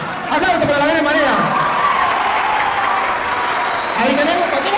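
A church audience at a debate on the Virgin Mary applauds steadily throughout, with cheering voices and a speaker's voice rising over the crowd near the start and again near the end.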